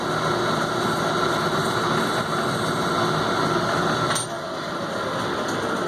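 An old, loose Logan metal lathe runs steadily in a workshop while trimming cartridge brass, giving a constant mechanical whine and hum with a brief click near the end.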